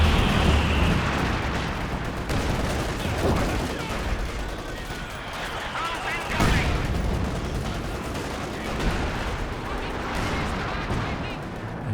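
Heavy artillery from a B4 howitzer in Company of Heroes 2, booming blasts and rumbling explosions layered with battlefield gunfire, a prominent shot around the middle, with a voice talking over the sustained loud combat.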